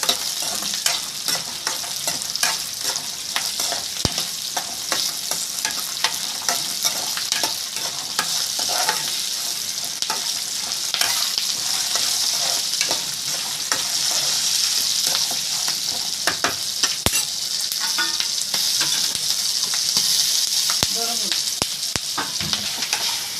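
Coriander seeds and cumin fry in a hot pan with a steady bright sizzle, while a spoon stirs with scattered scrapes and ticks throughout, close and continuous.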